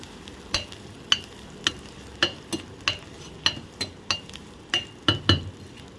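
Chopped garlic clove and small onion sautéing in a pan, with a steady low sizzle under a run of about a dozen sharp utensil clinks and scrapes against the pan at a brisk, uneven pace, close and alone.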